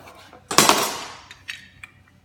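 A knife chops through a lime on a cutting board in one loud, sharp impact, followed by a few lighter knocks of the blade and board that fade out.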